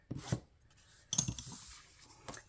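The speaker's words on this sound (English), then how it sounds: "let me burnish this down a little bit better" Paper on a handmade card is burnished down with a few separate rubbing and scraping strokes, close and fairly quiet, with short pauses between them.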